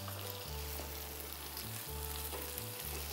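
Corn fries in a pan with a steady sizzle, while a low humming drone shifts pitch in stepped jumps underneath; the sound is close and moderately loud, and nobody speaks.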